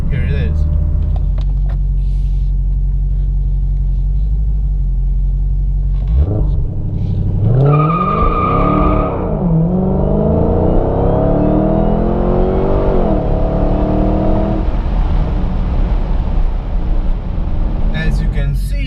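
A 2017 Dodge Challenger SRT Hellcat with 707 horsepower launches hard in a 3.5-second 0-60 sprint, its loud deep engine roar climbing and rising in pitch across the run, close and steady.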